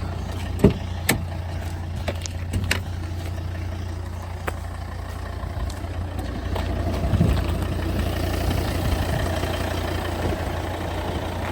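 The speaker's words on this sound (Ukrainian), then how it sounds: "Подивіться, як працює двигун, ніяких посторонніх шумів автомобілю немає." A 2012 Volvo XC90 with the D5 2.4-litre diesel and automatic gearbox idles steadily, a low, even engine hum with a few faint clicks near the start and no other noises.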